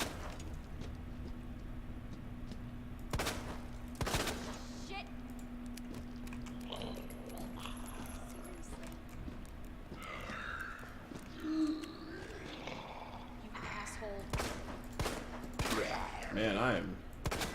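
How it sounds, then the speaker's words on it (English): Gunfire in the Resident Evil 2 video game, several sharp isolated shots spaced irregularly over a low game hum, with faint moans and a voice talking intermittently. "Man, I am missing shots terribly."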